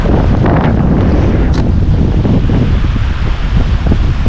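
Strong wind buffets the microphone near the summit crater of Eiler Butte in the Thousand Lakes Wilderness, a steady loud roar of gusts that fills the whole clip with no voices.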